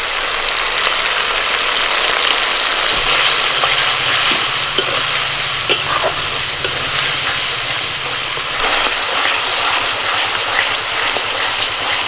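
Chilli, coriander, cumin and turmeric paste sizzling steadily in hot oil, a dense continuous crackle that runs the whole time with faint stirring scrapes, loud and close.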